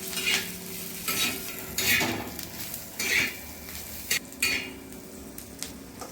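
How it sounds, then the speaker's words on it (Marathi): Spice ingredients sautéed in oil for a chicken rassa masala, close sizzling with repeated rhythmic scrapes and clinks of a spoon against the pan roughly every second, no voices. "हे सर्व साहित्य आपल्याला 2 ते 3 मिनिट व्यवस्थित परतून घ्यायचं आहे।"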